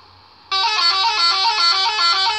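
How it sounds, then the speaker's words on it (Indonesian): After a brief quiet hum, a loud musical bus horn of the telolet kind blares suddenly, sounding a rising sequence of bright tones that holds for about two seconds. "ini suara telolet"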